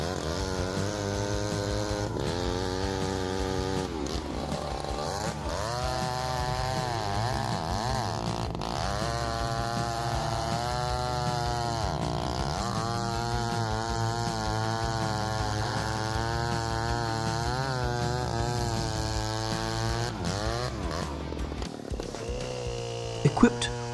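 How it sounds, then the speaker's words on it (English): A large Stihl 090 chainsaw with a 72-inch bar cuts through an oak tree, its engine roaring and revving steadily under a continuous voice narrating throughout. "The Style 90 chainsaw can handle oak with precision and great prestige in a short amount of time."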